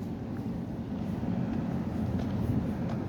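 A Class 46 diesel locomotive on the Mid Hants Railway rumbles at a distance while running round its train, a steady low engine drone that holds for a few seconds with no voices.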